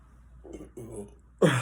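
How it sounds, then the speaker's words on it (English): A single burp erupts loudly near the end, after a stretch of quieter throat and voice sounds from one person. "I just burped"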